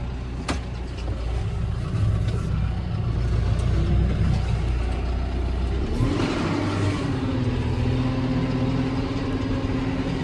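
A tractor loader's engine runs steadily and close by, with a rising mechanical whine and a deeper rumble as it drives.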